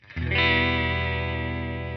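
Guitar chord through a Walrus Audio Julia analog chorus/vibrato pedal, vibrato on the saw-wave down setting, struck once and ringing loud and alone with a more abrupt, repeating pitch dip.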